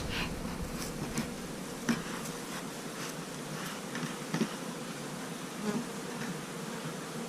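Honeybees from a winter beehive on a warm January day buzz in a steady, faint, continuous drone, with occasional individual bees flying close by and briefly louder.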